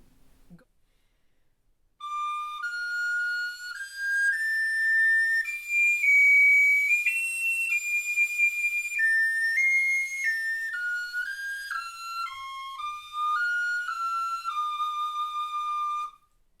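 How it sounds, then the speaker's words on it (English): A sopranino recorder plays a bright, piercing melody alone, notes stepping up and down with clear sustained tones and a short pause near the end. "You want to fill the room with the beautiful sound of the sopranino."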